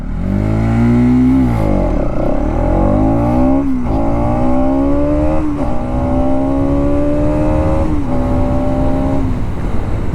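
A Bajaj Pulsar NS200 motorcycle engine revs hard through several gears on a downhill 0 to 60 run, pitch climbing then dropping at each shift, loud and close with steady acceleration.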